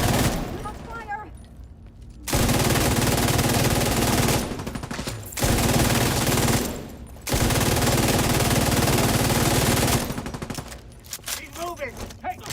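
Sustained bursts of automatic machine gun fire in the shooter Tom Clancy's The Division 2, loud and dense, broken by brief pauses, with faint voices underneath between volleys.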